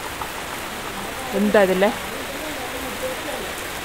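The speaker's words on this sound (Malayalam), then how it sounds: "ഭയങ്കര മഴ പെയ്തുകൊണ്ടിരിക്കുന്നു." Steady, dense hiss of heavy rain pouring down outdoors, close and continuous, with a short spoken phrase briefly over it.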